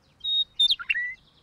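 Small bird singing loudly in the early morning, a bright chirping song of clear whistled notes with quick rising and falling phrases, close and alone.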